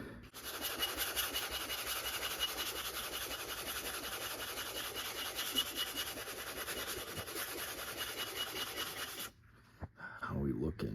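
Steady, close-up rasping of hand sanding on a tachometer housing being reshaped to match its original ground finish, continuous for about nine seconds before stopping abruptly.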